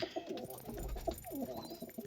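Racing pigeons kept by a hobby flier coo in short soft bursts close by, with faint rustling and a low rumble underneath and no voices.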